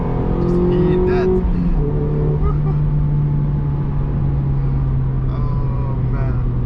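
A Mazda MX-5 ND with a 132-horsepower engine holds a steady, loud drone that swells and settles slightly, with road noise underneath and a faint voice briefly audible.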